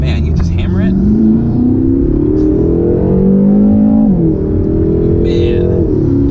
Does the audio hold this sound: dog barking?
no